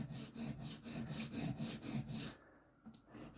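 Puma Inox knife blade stroked across a diamond plate to set its bevel, a close rhythmic rasping scrape repeated about eight times before stopping, followed by a single faint scrape.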